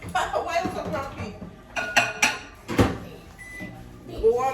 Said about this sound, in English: We warm it up in the microwave, like for a minute.